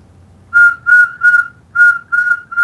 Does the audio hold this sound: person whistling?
yes